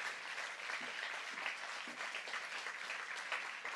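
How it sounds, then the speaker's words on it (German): A science slam audience gives a long, dense round of applause, even and sustained throughout, heard from within the hall. "bitte noch mal einen riesen Applaus, unter dem du die Bühne verlassen darfst"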